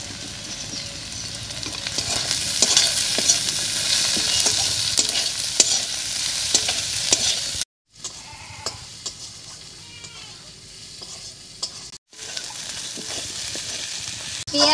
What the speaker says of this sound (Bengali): পেঁয়াজ আর শুটকি মাছের সঙ্গে রসুন আর কাঁচা লঙ্কাটাও ভাজা হয়ে গেছে